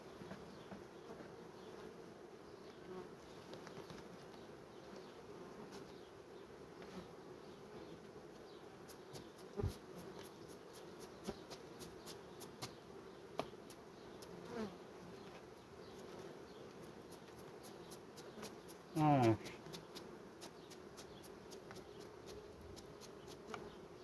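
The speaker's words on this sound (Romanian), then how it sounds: "Asta e munca la stupi." Honeybees buzz steadily at beehives in a sunflower-harvest season, a continuous insect hum with scattered faint clicks and one brief louder knock partway through.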